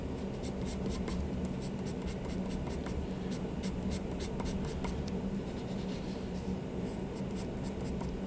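Pencil scratching on paper during a drawing, a continuous soft rasp broken by quick strokes and light taps, close and steady with no talking.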